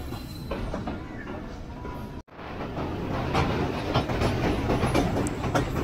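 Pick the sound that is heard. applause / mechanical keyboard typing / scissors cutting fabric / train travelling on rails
train travelling on rails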